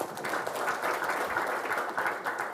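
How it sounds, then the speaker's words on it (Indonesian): An audience at a national-resilience gathering claps in a brief burst of steady applause, fairly faint and somewhat distant, with no voices over it. "Makanya sekali lagi tepuk tangan untuk Gus Imam Pituduh."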